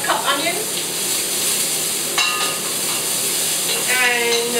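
Chopped onions hit a hot pan for a vegetarian Chi Qua soup and sizzle steadily, with a brief scrape of stirring partway through, close and moderately loud.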